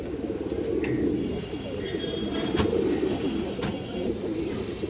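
A glossy black pigeon with deep purple-red legs, offered for sale alongside other fancy breeds, coos in low, rolling, continuous murmurs, close by, with a few faint higher chirps and brief rustles over the steady cooing.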